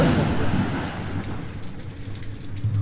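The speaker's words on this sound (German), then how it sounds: "Hagelt." Hail pelting down in an HTC Vive VR video game, a dense, loud rattling hiss with low rumble underneath, steady throughout, with faint voice-like sounds in the mix.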